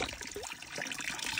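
Spring water from a village stream near an old hillside home trickles and splashes steadily, a close, continuous liquid babble with no voices.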